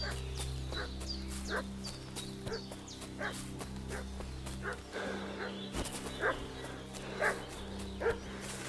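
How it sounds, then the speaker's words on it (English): A dog barks in the medieval role-playing video game Kingdom Come: Deliverance 2, repeated moderately distant yelps and barks at irregular intervals over a steady low ambient outdoor hum. "What's that dog making such a fuss about?"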